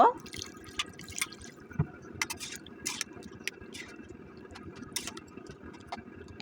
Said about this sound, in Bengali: আবার একটু পানি দিয়ে দিব